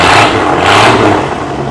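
An off-road race vehicle at King of the Hammers revving loudly up close, a dense roaring engine note swelling and easing over under two seconds.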